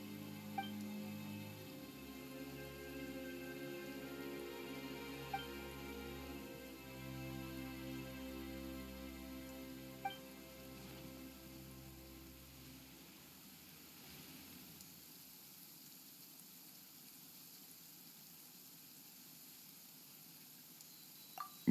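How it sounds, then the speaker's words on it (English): Steady rain hisses in a video game, a broad even wash of noise that continues after a low game music drone cuts out partway through, with a few faint soft ticks. "Why is it raining all of a sudden?"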